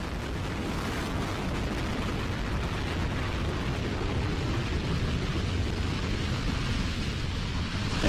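NASA rocket carrying an extreme-weather monitoring satellite, about thirty seconds after liftoff, sends up a continuous broadband roar that stays steady and loud throughout with no pauses.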